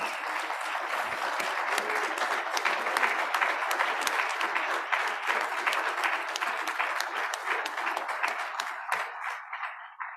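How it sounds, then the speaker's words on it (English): An audience at a hybrid club meeting gives a sustained round of applause, dense and steady clapping that continues close and loud for about ten seconds before tapering off. "So can we give Suzanne a real round of applause?"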